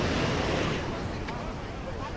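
Strong beach wind at Boa Viagem in Recife, Brazil, roars straight into the microphone as a dense, steady rush with no gaps, loud and close.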